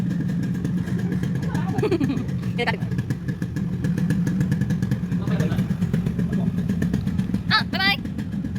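A motorcycle engine drones along at a steady pitch under ongoing talk, with occasional clatter and short high squeaks.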